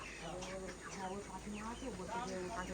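Thirty-two-day-old broiler chickens at a poultry farm, a dense flock clucking continuously with overlapping short calls, moderately close but soft overall, with speech over them.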